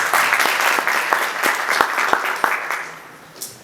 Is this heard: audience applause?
yes